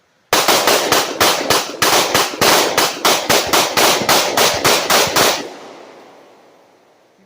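A handgun fires a rapid string of about eighteen sharp, loud shots in quick rhythm, then stops as the slide locks back, leaving a fading echo.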